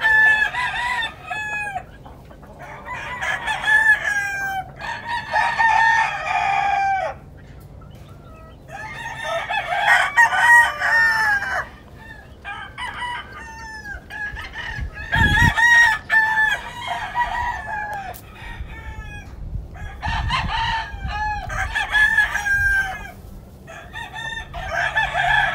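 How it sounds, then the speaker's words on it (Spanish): Roosters crow again and again on a farm, loud and near, with chickens clucking between the calls and a brief thump midway through. "Y son pollos"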